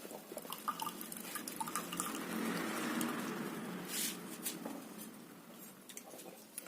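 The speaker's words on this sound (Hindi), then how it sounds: "अभी मैं आपको गिलास में भर के बताऊंगा" Freshly squeezed juice with no added water is poured into a glass, making a soft, continuous liquid trickle and patter, faint and close, with no voices.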